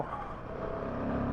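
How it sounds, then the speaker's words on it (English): Royal Enfield Himalayan 450 motorcycle being ridden in the Himalayas, its engine droning steadily and close with a slight rise in pitch over a brief stretch, no voices. "riding a Royal Enfield Himalayan at its world launch"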